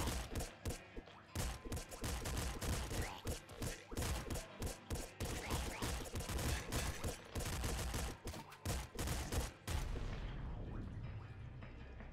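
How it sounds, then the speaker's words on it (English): Rapid gunfire and enemy shots from the video game Nuclear Throne, a dense barrage of overlapping shots and booms with a revolver among the weapons, continuous and loud for about ten seconds before fading out. "luckily, we can destroy most of the enemy shots that come our way here"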